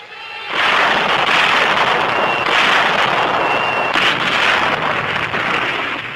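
German coastal guns firing on the D-Day landing beaches in Normandy, a loud, continuous roaring barrage that starts abruptly and rumbles on steadily for several seconds with no talking.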